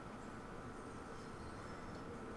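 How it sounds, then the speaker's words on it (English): A London Underground Bakerloo Line train approaches in the Train Sim World 2 video game, a low continuous rumble of wheels on track, faint and steady throughout. "Here's our train coming around."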